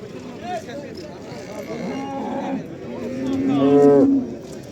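A cow moos at a livestock market, with several drawn-out, tonal lows rising to a loud, close bellow near the end amid people talking in the background.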